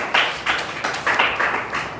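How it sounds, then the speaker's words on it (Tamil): A church congregation claps together in a steady rhythm, about six sharp group claps in two seconds, moderately loud, with no talking. "நல்லா கைத்தட்டி ஆண்டவருக்கு நின்று சொல்லுங்க"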